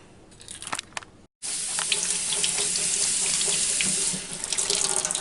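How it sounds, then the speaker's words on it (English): Carrots rinsed under a running kitchen tap, water splashing steadily and loudly for several seconds after a brief pause, with faint handling noises before. "Rinsing off the carrots."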